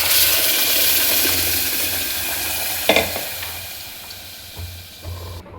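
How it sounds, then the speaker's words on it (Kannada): Ground masala paste hits hot oil in a pan for a Muslim-style chicken curry, giving a steady loud sizzle with stirring scrapes and a few sharper clatters of the spoon. "ಇದು ಈಗ ಮಸಾಲೆ ರುಬ್ಕೊಂಡಿದ್ದು ಇದರೊಳಗೆ ಹಾಕಕತ್ತೀನಿ ನೋಡಿರಿ."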